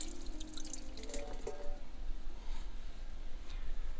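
Water drips and trickles from the small tap of a Volkswagen T4 camper van, a few light close drops early on and then a quiet steady background.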